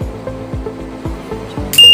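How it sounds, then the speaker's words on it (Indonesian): An electronics-kit buzzer triggered by a flame sensor detecting fire gives a sudden loud, steady tone near the end, following a run of regular low clicks or pulses. "Jika terdapat api di depannya, maka buzzer ini akan menyala seperti ini."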